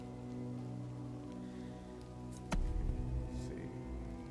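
Rain falling in Total War Pharaoh, a soft steady patter of drops on surfaces that holds through the clip, with a sharp crack partway through followed by heavier, louder rainfall.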